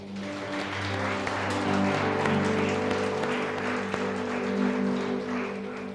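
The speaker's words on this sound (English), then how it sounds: "Now let's give the Lord a big clap." Church congregation clapping for the Lord, a dense, steady patter sustained for several seconds beneath sustained keyboard or organ chords.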